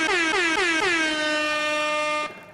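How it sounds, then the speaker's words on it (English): An air horn blares loudly, several quick stuttering honks running into one sustained blast that cuts off abruptly. "Oh, Miss Mary, I promise you air horns."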